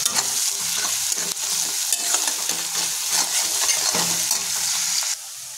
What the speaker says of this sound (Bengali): লবণ যোগ করে দিচ্ছি, তাই আমরা পেঁয়াজগুলোকে একটু নেড়ে নেব